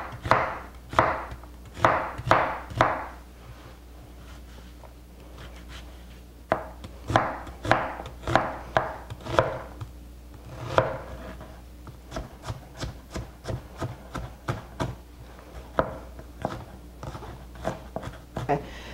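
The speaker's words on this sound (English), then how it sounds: "I'm gonna finish chopping up this onion" A knife chops an onion on a cutting board in quick bursts of crisp, close taps, with short pauses between the runs, for caramelized onions going into a mushroom risotto.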